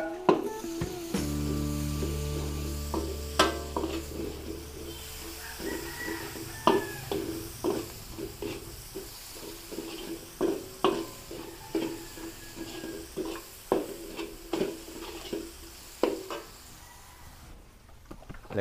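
Garlic and onion frying in a pan for Filipino home cooking, a steady sizzle broken by repeated clinks and scrapes of a utensil stirring against the pan.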